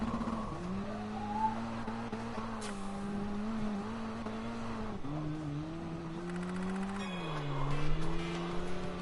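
Car drifting in Gran Turismo Sport driven with a wheel: a steady, loud engine drone with long tire squeal, the pitch rising and dipping as the throttle is worked through the slide.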